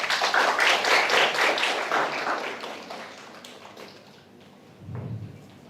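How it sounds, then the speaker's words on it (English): An audience at a certificate ceremony for an international summer course claps loudly for a few seconds, then the applause fades, and a low thump follows near the end. "Please give applause to Miss Audrey Liwan"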